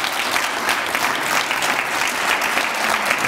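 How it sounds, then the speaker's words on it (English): Audience applause fills the hall after the Mapungubwe Annual Lecture by Professor Giorgio Romano Schutte: a steady, dense wash of many hands clapping together, loud and close, holding evenly throughout. "we should give yet another round of applause to Professor Schutte"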